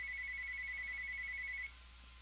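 A phone rings nearby in a steady electronic trill that runs unbroken for about a second and a half, then stops abruptly, leaving only a low hum.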